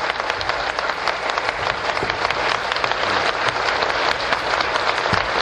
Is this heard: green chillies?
no